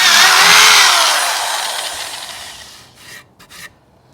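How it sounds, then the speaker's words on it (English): A loud power drill whines through material, its pitch dropping as it bites, then fades and gives way to a few brief scraping bursts. "I'm going to go ahead and drill holes around it"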